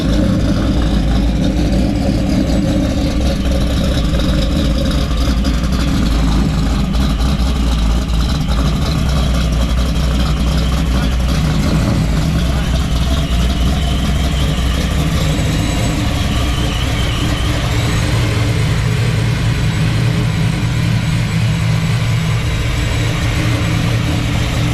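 A boosted Big Block Chevy engine on a test drive, its loud low rumble steady throughout with road and cabin noise layered on top, heard from inside the car.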